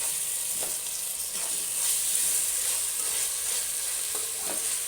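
Curry of chamagadda (taro root) stirred in a hot pan with oil, a steady broad sizzle with soft scraping strokes of the spoon recurring throughout, close and continuous.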